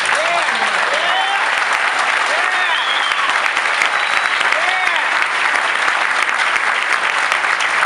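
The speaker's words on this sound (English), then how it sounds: "who deserves a warm round of applause" A large audience at a National Urban League event in Ferguson, Missouri, gives a loud, dense, unbroken round of applause for nearly eight seconds, with occasional voices calling out within the clapping.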